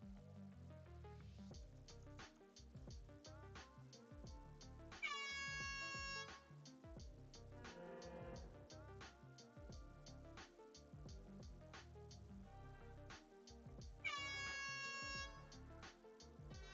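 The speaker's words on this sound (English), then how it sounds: "So I think it's air horn." A dense, busy music-like bed with two bright blasts of an air horn standing out, each lasting about a second, roughly nine seconds apart.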